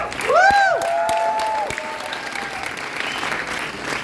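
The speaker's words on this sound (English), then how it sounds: "So give yourselves a round of applause because it's awesome." Convention panel audience breaking into loud applause, a dense wash of clapping with a few whoops and cheers near the start, then slowly tapering.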